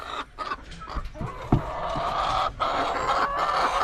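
Chickens clucking around a homemade PVC pipe feeder, a busy mix of nearby clucks and squawks with a crow in the background, steady farmyard noise with no talk.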